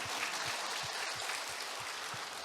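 An audience at a talk concert during the Kim Dae-jung Peace Conference applauds with a soft, even patter, accompanied by regular low thumps, fairly faint and steady across the whole stretch.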